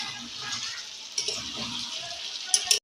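Water poured into a pot of potatoes while cooking country chicken, a steady splashing, gurgling stream close by that runs throughout, with a few sharper spills near the end.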